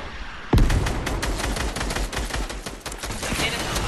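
Rapid gunfire from the video game Fortnite bursts in sharply after a short pause, continuing as a dense stream of shots and impacts for several seconds, loud and close.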